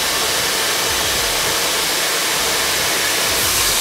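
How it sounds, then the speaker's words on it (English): Hair dryer blowing steadily close up as wavy hair is blow dried straight, a continuous broadband whoosh with slight fluctuations and no talking. "This really is the finishing point of the blow dry."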